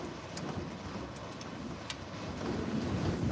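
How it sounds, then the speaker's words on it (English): Strong gale blowing across a hilltop in Euroa, a steady broad rushing roar buffeting the microphone and growing slightly stronger toward the end, with no voices. "it's blowing a gale up here on top of the hill"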